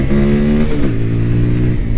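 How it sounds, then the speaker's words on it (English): A TVS Apache motorcycle engine revs steadily and loudly up close, its pitch rising and then dropping back, with no voices. "I am having a lot of fun riding this motorcycle"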